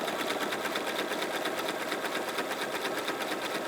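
A sewing machine runs continuously while stitching a bag, its rapid even needle clatter close and constant throughout.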